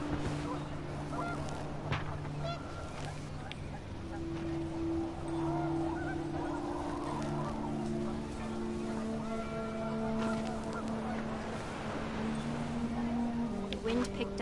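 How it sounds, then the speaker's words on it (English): Panicked geese honk in the video game What Remains of Edith Finch, a continuous faint flock of honks over wind-like background, with a voice speaking over it. "The wind picked up, and panicked geese appeared and quickly went."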